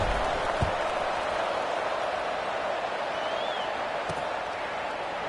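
A steady, dense stadium crowd roar from the College Football 26 video game hums continuously late in the fourth quarter after a score, with a faint whistle-like tone drifting through the middle.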